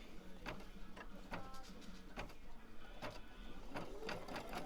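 An embroidery machine stitches around quilt batting with a steady rapid needle chatter and periodic louder thumps, close and continuous.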